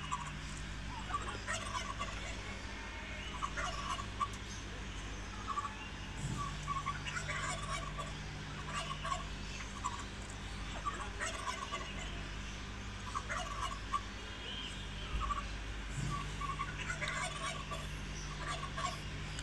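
Turkeys gobble in repeated short bursts at a moderate distance, mixed with clucking and other fowl calls over a steady background hum.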